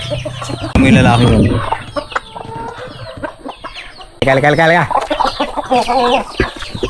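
Chickens cluck loudly and repeatedly close by, with someone talking over them throughout.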